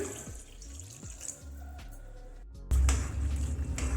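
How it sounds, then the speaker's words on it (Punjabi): Water poured into a pan of Manchurian sauce gives a sudden close splashing gush near the end, after a few quieter drips and clinks from stirring. "ਨਾਲ ਹੀ ਹੁਣ ਆਪਾਂ ਇਹਦੇ ਵਿੱਚ ਪਾਣੀ ਨੂੰ ਪਾ ਦਵਾਂਗੇ"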